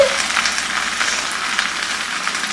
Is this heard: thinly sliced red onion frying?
yes